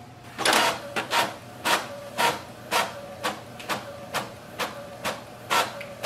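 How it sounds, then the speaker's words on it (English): An Epson EcoTank ET-4850 inkjet printer printing a test page: regular mechanical strokes of the print head, roughly two per second, each with a short whirring rise, close and clear, with no talking. "Printer is successfully connected and it has printed the test page"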